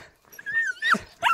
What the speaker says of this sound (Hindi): अभी तुम्हें अपने कुत्तों से मिलाते हम